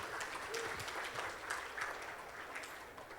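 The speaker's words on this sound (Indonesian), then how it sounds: "Tepuk tangan untuk kita semua." An audience at an investment forum in Solo breaks into applause. Fairly quiet, steady clapping with scattered sharper claps runs through the whole short stretch.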